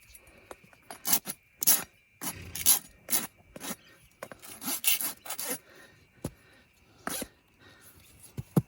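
A rasp files wood in rough, irregular strokes, each a bright scraping burst with short pauses between, close and loud.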